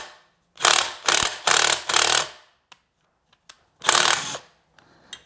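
A ratchet on a Briggs & Stratton overhead valve small engine gives four quick close bursts of clicking, a short pause with faint taps, then one more burst.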